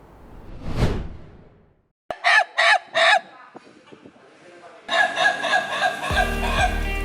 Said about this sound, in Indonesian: Suara koko ayam bersautan di halaman belakang rumah dinas wali kota Madiun pagi itu